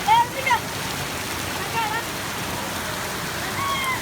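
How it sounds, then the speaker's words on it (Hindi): Heavy rain in a storm in Ahmedabad makes a steady, moderately faint hiss throughout, with a couple of brief high chirping tones near the start. "बारिश और तेज हो गई है"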